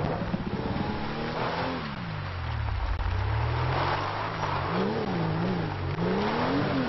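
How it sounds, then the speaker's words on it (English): A Ford Mustang GT500 engine in GTA5 revs up and down repeatedly, its loud, close drone rising and falling in pitch through shifting gears. "This is the GT500. Mustang."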